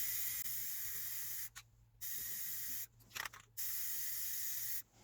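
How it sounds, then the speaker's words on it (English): Hissing bursts of a paint sprayer coating cabinet corners, several long sprays separated by short pauses, close and steady. "Now, why am I spraying the corners?"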